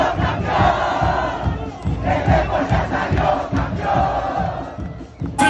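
Packed stadium crowd cheers and chants for Deportivo Pereira at the club's 2023 presentation, loud surging waves of massed voices with rhythmic pulses, swelling and easing over several seconds.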